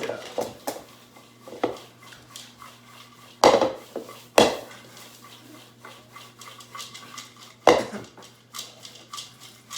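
Popcorn is tossed with oil and salt in a bowl, heard as scattered knocks, clatters and scrapes of utensil against bowl, with a few sharper bangs amid quieter rustling.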